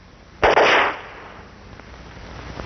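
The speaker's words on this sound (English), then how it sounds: "We do it by firing a string of specially designed charges." Perforating charges firing inside an oil well casing, a single sharp loud blast that crackles briefly and then fades into quiet.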